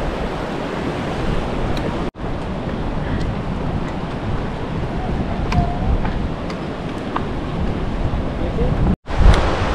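Rushing water from a mountain valley stream beside a trail on the Kashmir Great Lakes trek near Nichnai camp, a steady broadband roar with wind buffeting the microphone and two brief dropouts.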